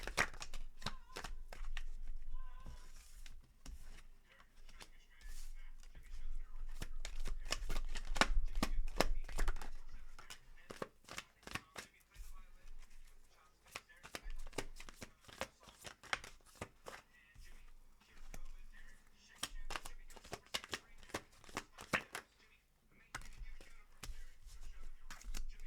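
Tarot cards shuffled by hand, a long run of quick crisp riffling and slapping taps in bursts, close and fairly quiet, with soft speech drifting in at moments.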